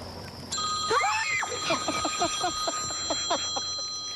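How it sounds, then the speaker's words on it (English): A telephone rings in a quiet late-night setting, a clear electronic trilling tone repeating in short bursts at moderate distance, with sustained high tones lingering in the background. "you might be able to hear that phone ringing"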